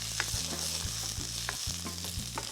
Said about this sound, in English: as my oil gets really, really hot, in goes my garlic,